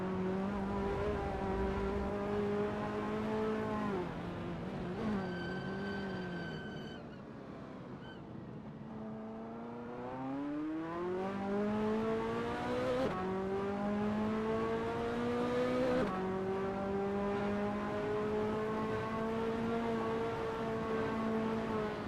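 A Ferrari F40 racing around Sonoma in a sim racing game, its engine droning loud and close with rising revs, pitch sweeps at gear changes and a brief lift around the midpoint.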